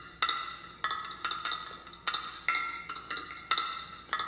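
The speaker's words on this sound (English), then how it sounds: "First I'll play you one of the loops that was just from me randomly tapping." A quantized percussive loop built from random tapping sounds as crisp, clicky hits in a tight repeating rhythm, dry and moderately quiet with no voices.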